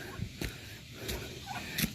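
Loud honking bird calls, several short bursts spread across a few seconds over a steady outdoor background, like geese calling nearby.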